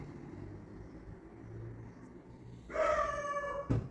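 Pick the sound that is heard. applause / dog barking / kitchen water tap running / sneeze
dog barking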